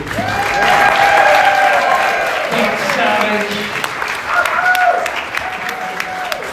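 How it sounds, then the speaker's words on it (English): An event audience in Ottawa gives a DJ a sustained round of loud applause with cheers and whoops, while a voice talks over the clapping. "Can we get another round of applause for tonight's DJ?"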